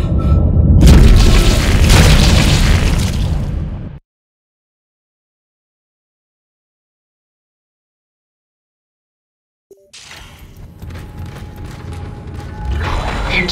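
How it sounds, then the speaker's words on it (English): Loud rumbling booms and mechanical clanks against the starboard hull of a spaceship in Dead Space, a heavy burst that cuts to dead silence, then grinding metallic noise returns. "Multiple impacts detected across the starboard hull."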